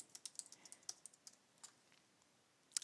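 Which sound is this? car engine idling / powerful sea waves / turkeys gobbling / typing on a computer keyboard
typing on a computer keyboard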